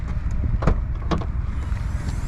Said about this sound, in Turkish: Şöyle bir bagajı kaldıralım.